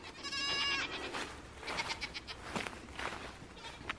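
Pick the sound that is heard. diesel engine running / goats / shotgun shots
goats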